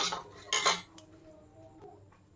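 A spoon stirs cornflour and water batter in a bowl, giving a couple of loud scraping clinks near the start, then softer scattered taps and swishes, close and with no voices.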